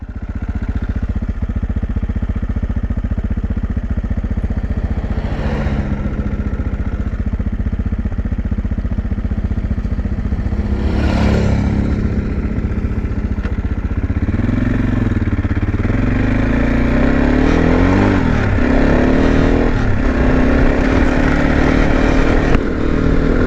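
Motorcycles on an outback dirt road between Marree and William Creek in South Australia ride past, loud engine drone swelling and fading as several bikes pass close by one after another, rising to a strong roar near the end.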